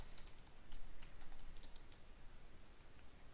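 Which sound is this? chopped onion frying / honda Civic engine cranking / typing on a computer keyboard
typing on a computer keyboard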